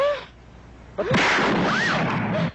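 A faulty gun fires in a film scene: a sharp blast followed by a sustained, roaring burst of noise with whistling tones, loud and unaccompanied by talk.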